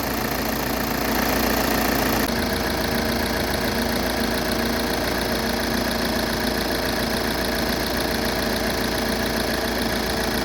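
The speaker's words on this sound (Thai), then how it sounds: "เสียงการทำงานของเครื่องยนต์ ขณะคอมทำงานก็ปกติครับ" Volkswagen Caravelle engine idling steadily with its Denso air-conditioning compressor engaged, a continuous close mechanical hum and whir with a slight knock-like rhythm throughout.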